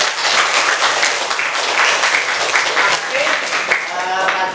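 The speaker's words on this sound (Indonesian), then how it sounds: "kasih aplaus untuk mereka" An audience applauds in a dense wash of clapping hands that holds steady for several seconds, with a few voices calling out and talking over it.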